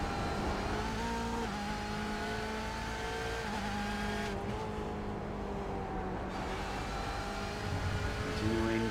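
GTE race cars lapping Lime Rock Park in a racing sim, including a Ferrari, with steady high engine drones and shifting tones as cars run close together, continuous and loud.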